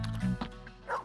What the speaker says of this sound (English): A dog's eating steam buns!